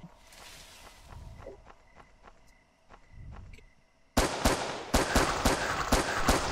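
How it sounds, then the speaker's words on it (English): Gunfire in the horror video game Chupacabras: Night Hunt, a few faint distant shots followed by a burst of loud, sharp, rapid reports in close succession. "I hear gunshots."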